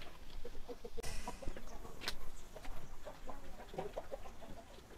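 A rooster at dusk, with faint clucks and short crowing calls scattered over a noisy outdoor background, fairly distant and quiet.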